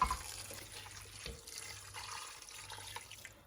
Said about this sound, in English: And then I'll add water,